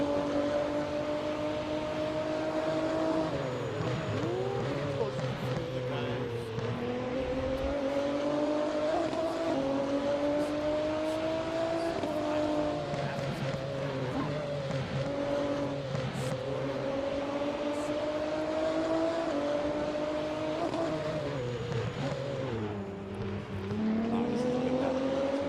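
Radical SR10 race car at full throttle in a sim racing game on VIR North: a loud, sustained engine howl with rising and falling pitch through gear changes and corners, running steadily throughout.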